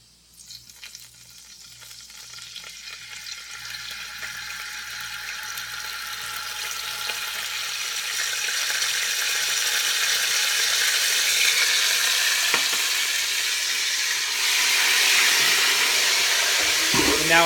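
Pasta water poured slowly into a hot pan of garlic oil: a loud continuous sizzle and sputter that swells and hisses steadily for many seconds, with a brief clatter at the end.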